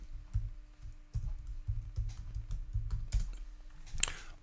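Typing on a computer keyboard while a folder name is entered, with a steady run of soft, close keystrokes and a brief sharper burst near the end; no one speaks.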